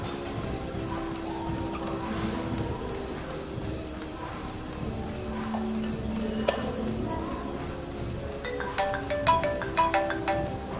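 A phone ringtone plays near the end, a quick series of bright electronic tones over background music and ambient noise.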